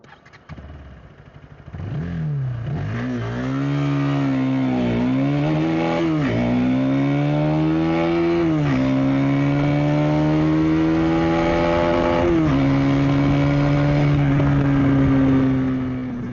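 A 2026 third-generation KTM Duke 250 motorcycle engine starts and is revved, climbing from idle into a loud sustained high-pitched drone with several rises and dips, close up and steady to the end.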